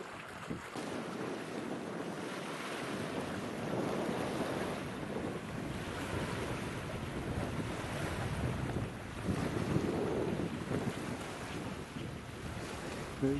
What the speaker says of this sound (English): The wind's blowing. A little bit choppy today.